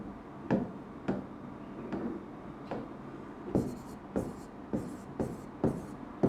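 Marker or chalk writing on a board while working an average rate of return calculation, a series of separate sharp taps and short scratchy strokes at a slow irregular pace, close and fairly clear over quiet room noise.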